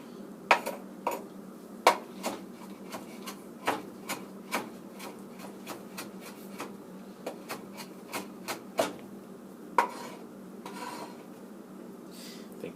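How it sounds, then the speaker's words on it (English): A knife finely chopping turnip for a mash on a cutting board: a long series of sharp, close taps in a loose, uneven rhythm over soft background hiss, with no talking. "And it's just sort of chopping it up as finely as you can."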